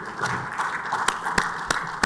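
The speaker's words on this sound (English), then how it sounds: "The clapping is so shy." Sparse, hesitant clapping from an audience at the official launch of a cybersecurity community for Africa, a few sharp isolated claps over a faint murmur in a hall.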